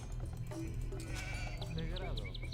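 Sheep bleat in the Age of Empires II video game, several wavering calls over a dense backdrop of game sounds and a low hum, with a person talking underneath.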